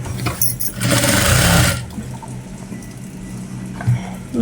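A sewing machine stitches a folded shirt placket in one short steady burst of rapid whirring, loud and close, then stops and leaves a low hum with no talking.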